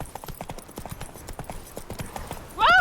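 In The Witcher 3: Wild Hunt, the horse Roach's hooves clop in a steady rhythmic gait at close range, ending with a loud neigh.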